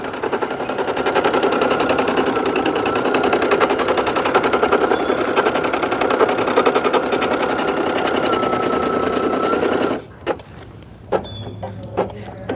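A portable embroidery machine running a placement stitch outdoors by the water, a loud, rapid, steady mechanical chatter lasting about ten seconds, then stopping abruptly and leaving a few faint clicks and handling sounds.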